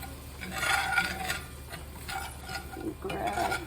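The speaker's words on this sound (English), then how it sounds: "I'm going to take some flour. I don't know, that may be about 2 or 3 tablespoons, I'm not sure. And just kind of stir that in there" Flour being stirred into melting butter in a pan, a soft scraping and swishing of the utensil against the pan in uneven strokes, close and fairly quiet.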